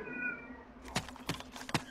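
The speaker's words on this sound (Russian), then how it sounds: "Это у тебя кошка там орет?" A pet cat yowls at home during a DayZ zombie game session, several loud, drawn-out meows cutting in close and clear over low background hum, with no talk.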